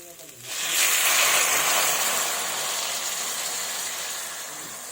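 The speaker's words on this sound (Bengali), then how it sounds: "এবার আমি দিয়ে দিব জল।" Water poured into hot, well-fried spice paste for a papaya and drumstick curry, bursting into a loud hissing sizzle that swells quickly and then settles into a steady, slowly fading fry.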